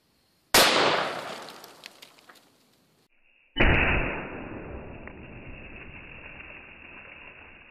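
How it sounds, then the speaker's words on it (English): A .500 Smith and Wesson Magnum revolver fires a 300-grain Hornady FTX bullet into a block of ice, giving one sharp, loud blast that rings and decays, then a second, heavier report follows a few seconds later and trails off into a long echoing tail. "since the second ice block is largely intact, we can shoot it again."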